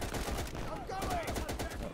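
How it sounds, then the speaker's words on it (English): Bren machine gun fire in the video game Easy Red 2 during the Battle of Anzio, a rapid run of sharp bursts and cracks packed close together amid other battlefield gunfire. "There's our Bren machine gun going off"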